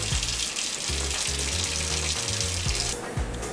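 Water gushes from a tap into a coffee mixture used for etching a mosaic Damascus Bowie knife blade, a loud, steady splashing flow close by, alone without talk.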